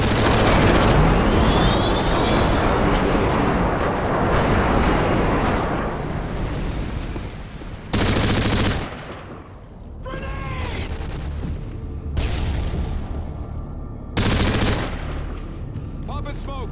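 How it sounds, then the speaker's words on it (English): Airstrike explosions and gunfire in the game Call of Duty: Modern Warfare 2 on the Nuketown map, a loud, dense barrage of rumbling blasts and rapid shots that continues throughout, with game voices heard over it. "Friendly airstrike inbound."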